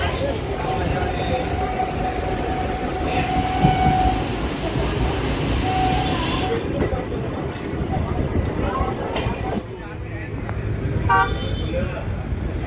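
A passenger train on the Krishnanagar to Amghata route rolls along with continuous rumbling and rattling, a horn toots partway through, and voices murmur faintly in the background.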